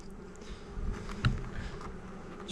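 Honeybees hum in a steady low drone around an open hive under inspection, with a faint scrape or knock near the middle and no talking.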